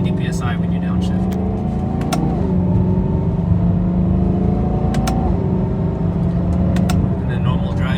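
A BMW E92 M3 engine revs up and down as the driver downshifts, heard as a loud, close, droning rumble with brief pitch jumps and ticking clicks.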